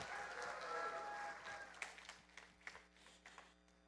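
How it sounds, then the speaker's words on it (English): A keynote audience applauds: a fairly faint wash of clapping that fades after a couple of seconds, leaving scattered softer claps and room noise. "Big round of applause for Vijay."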